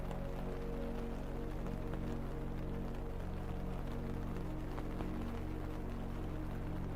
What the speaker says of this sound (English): the rain grows heavier